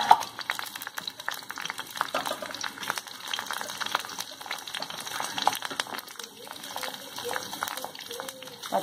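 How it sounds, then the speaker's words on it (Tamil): Capsicum chillies hitting hot oil in a pan while making tomato chutney, a dense, continuous crackling and bubbling fry heard up close. "கொடகமிளகாவை போடுறோம்."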